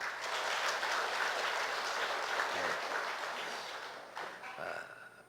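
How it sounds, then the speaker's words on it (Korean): A church congregation claps together in sustained, dense applause that holds steady and then thins slightly toward the end, with no talk over it. "우리가 박수 한번 해드립시다"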